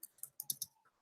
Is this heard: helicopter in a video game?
no